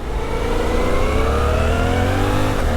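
A Suzuki V-Strom 800 DE motorcycle engine accelerates on a long ride, a loud continuous rising drone of revs climbing steadily through the gears, with heavy wind and road rumble underneath and no talk.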